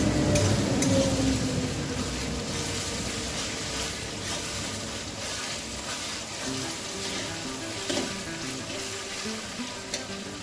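Onions and tomatoes fry in hot oil with a continuous close sizzle and crackle, broken by occasional stirring scrapes and light clinks of cookware; no voices.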